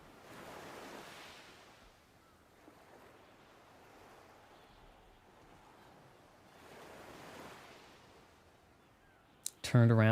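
Ocean surf and wind on a beach in the video game Pragmata: two slow swells of breaking waves rise and fade over a steady wind hiss, ending in an abrupt loud burst.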